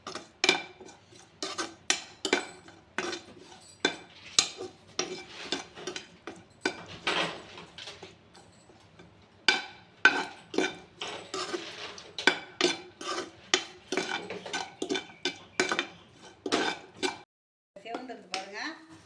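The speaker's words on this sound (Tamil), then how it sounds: "முந்திரி நல்லா செவர வார்க்கணும்." Cashews frying in a pan are stirred with a utensil, giving repeated sharp scraping and clinking strokes in a steady rhythm, loud and close, with a faint sizzle between strokes and a brief pause near the end.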